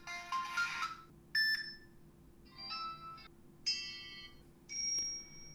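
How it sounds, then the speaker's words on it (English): A run of short electronic notification chimes from a No 1 G3+ smartwatch, six distinct tones of varying pitch and timbre played one after another with brief pauses, close and clear over a faint hum. "Alright, then we have notification sounds."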